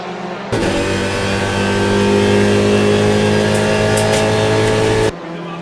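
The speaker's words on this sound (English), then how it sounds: "That was Radim Adamek in his Audi RS3 TCR" An Audi RS3 TCR race car at Brno circuit roars past close by, its engine note climbing steadily in a loud, sustained acceleration that cuts off abruptly after about five seconds.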